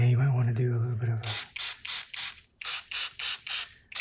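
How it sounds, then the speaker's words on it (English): Water spray bottle misting an abstract gold foil painting, heard as a quick series of about nine sharp, hissing spritzes in steady rhythm, close and fairly loud, following a moment of talk. "a water spray"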